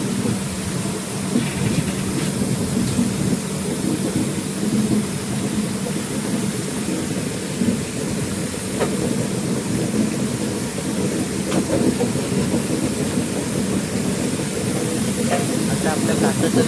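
An Indian Railways train on the Mumbai to Visakhapatnam run rumbles steadily through rain, a constant dense roar with faint clicks and rattles throughout.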